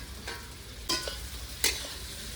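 Small chuno fish frying with onions in a pan, a quiet steady sizzle under a few distinct scraping stirs of a spatula, close and without talk.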